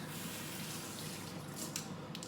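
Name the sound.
water running from a tap to wet the hands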